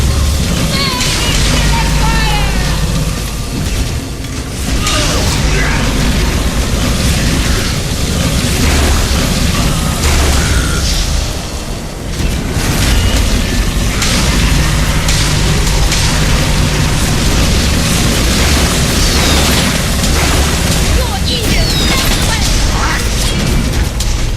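Bombard spell explosions in the video game War for the Overworld, a loud, dense barrage of booming blasts and rumbling impacts that continue almost without pause, with a game announcer's voice speaking over them.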